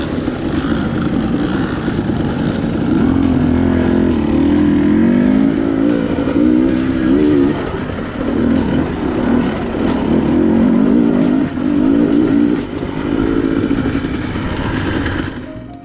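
A 2025 KTM 300 two-stroke enduro motorcycle lugs up steep mountain trail terrain, its engine note loud and continuous, rising and falling with throttle changes and brief dips, with no talking.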